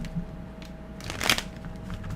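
Tarot cards are shuffled close by in a soft, continuous papery riffle that swells to a brief louder flurry midway, with no talk.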